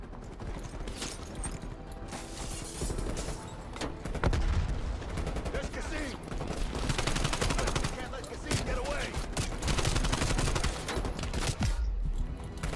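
Bursts of AK-74U automatic rifle fire in the shooter game Call of Duty: Black Ops, loud and near, with rapid repeated volleys running through most of the stretch amid game effects.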